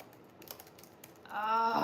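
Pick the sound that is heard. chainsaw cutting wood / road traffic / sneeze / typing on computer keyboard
typing on computer keyboard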